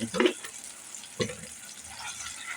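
Tomato and vegetables sautéed in a pan for a Maharashtrian eggplant-potato curry (vangi batata rassa), with a soft steady sizzle broken by two brief stirring scrapes near the start and middle.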